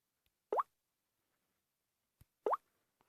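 Two soft, short plops of an Android keyboard key press sound, spaced about two seconds apart with faint ticks between, heard alone in quiet.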